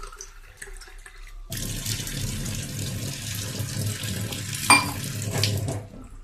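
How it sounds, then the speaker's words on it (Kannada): Water running from a tap begins abruptly after a quiet start and flows steadily as a broad rushing splash, with a brief clatter near the end and no talk. "ನೀರು ಬರೋಡು"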